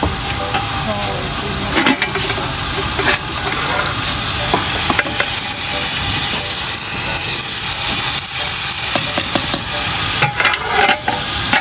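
Onions with masala fry in a pan in a home kitchen, sizzling loudly and steadily with repeated scraping stirs throughout, close to the mic, with a little background talk.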